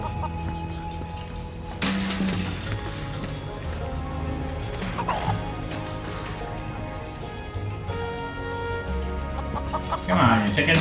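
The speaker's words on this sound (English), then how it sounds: "Man, I don't like these chickens." Chickens cluck and squawk in a Final Fantasy VII Rebirth minigame in Gongaga, with repeated bursts over steady game music and effects, growing louder near the end.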